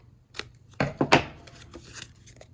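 Scissors cut paper for a mini album page in a few close, crisp snips, with two sharper cuts clustered in the middle and a couple of lighter rustles after.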